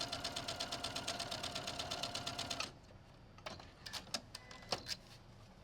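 A sewing machine stitches a quilt block in a fast, even run of needle strokes, then stops abruptly and leaves a few scattered clicks and taps; no talking.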